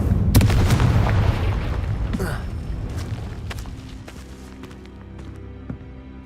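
A Confringo blasting spell goes off in the Hogwarts Legacy game, a sharp burst followed by rumbling debris and scattered impacts that fade out. A voice speaks the incantation.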